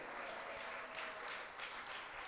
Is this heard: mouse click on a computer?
no